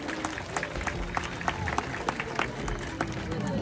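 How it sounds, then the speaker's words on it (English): Audience clapping and cheering after a bird of prey snatches a fish from the water surface at an outdoor bird show at a safari park, scattered claps over crowd murmur and a presenter's voice. "Let's give her a big round of applause for that"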